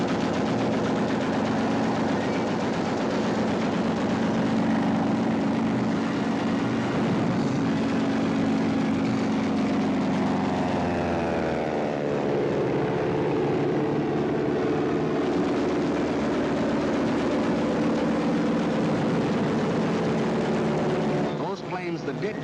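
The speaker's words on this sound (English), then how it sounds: "the planes of the Luftwaffe were over Poland, wiping out the Polish Air Force" Luftwaffe warplanes flying over Poland in archival wartime footage, a continuous loud propeller-engine drone with a pitch sweep midway, rattling gunfire-like bursts mixed in, and a voice speaking over it.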